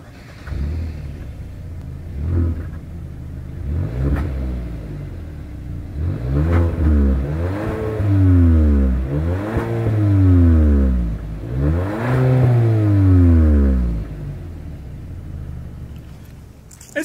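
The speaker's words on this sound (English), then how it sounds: "As always, here is that exhaust clip." A 2020 Hyundai Sonata SEL with dual chrome exhaust tips revs repeatedly from idle, each blip rising and falling in pitch as a close, loud engine rumble, alone without talk.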